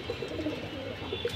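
Caged pigeons coo softly in a steady murmur of low repeated calls over constant background hiss, fairly faint and continuous.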